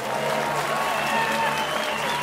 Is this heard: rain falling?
no